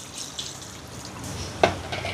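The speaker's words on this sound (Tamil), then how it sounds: "சேர்த்துட்டு இதில் 2 கப் தண்ணி எடுத்துருக்குறேன்." Two cups of water pour steadily into a pot of broken palm jaggery, a soft continuous splashing rush heard close up with no voices.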